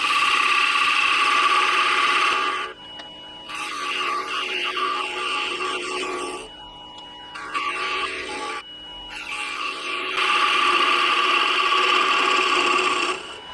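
A gouge cuts a small wooden ornament spinning on a wood lathe, giving a loud, close, continuous scraping whir that breaks off for brief pauses and then resumes, with no talking.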